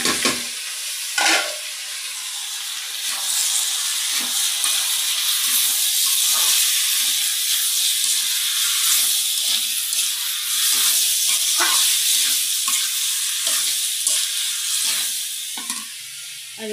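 Runner beans sizzle steadily in hot oil in a pan on a home kitchen stove, a continuous loud crackling hiss broken by a few sharper pops and occasional stirring clatter.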